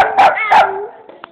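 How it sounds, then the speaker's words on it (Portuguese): Two sharp, loud dog barks close by in quick succession, followed by a brief faint yip. "Olha que latido ardido."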